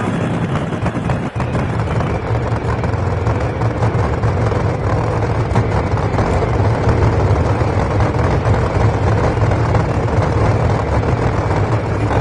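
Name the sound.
drag racing car engines idling before a burnout, from NHRA video game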